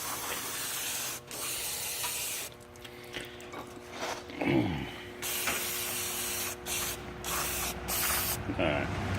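Water sprays from a hose during a front bearing service, a hissing spray that starts and stops in several bursts, with some clunks and scraping in between.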